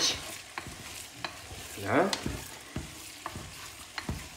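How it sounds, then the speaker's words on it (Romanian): Oxtail pieces sizzle and fry in a pan for an oxtail stew, with scattered sharp clinks and scrapes of stirring close by and a brief spoken word partway through. "Să le lăsăm un pic să se prăjească, dăm un pic foc un pic mai tare"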